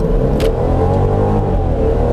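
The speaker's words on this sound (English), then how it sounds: "I will give it a little acceleration right here, and you guys can see" A 2019 Mercedes-Benz C300 convertible accelerates on a smooth road with a steady, loud engine and road roar heard from inside the cabin, rising slightly with no talking.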